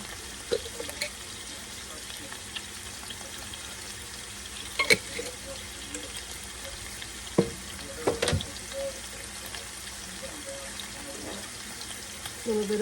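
Onion and dehydrated garlic fry in a pan, making a soft, steady sizzle with occasional clinks and scrapes of stirring.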